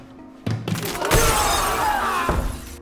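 Glass tiles shatter on the Squid Game glass bridge: a sharp thud and crack, then a loud, sustained crash of breaking glass lasting about two seconds, heard alone without speech.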